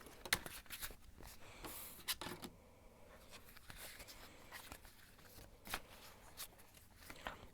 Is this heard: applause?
no